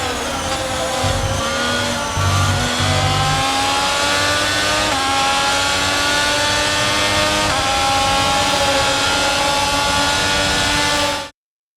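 Formula 1 race car engine in the game F1 22, a loud high-pitched screaming drone with rising gear sweeps and shifts, running steadily alone before cutting off abruptly.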